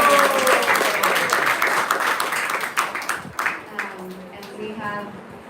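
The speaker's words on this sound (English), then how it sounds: "Big round of applause for Mahatma." A crowd at a devotional Bhagavata reading gathering gives a loud round of applause that thins into scattered claps and fades, with voices emerging near the end.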